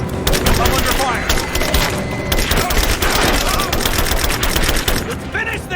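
Sustained video game machine gun fire, loud and continuous with rapid overlapping bursts and booms, layered with game sound effects throughout.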